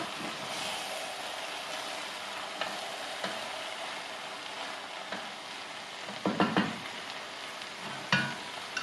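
Cabbage and pork frying in a pan, a steady close sizzle with occasional scraping stirs and a cluster of knocks from the utensil against the pan near the end.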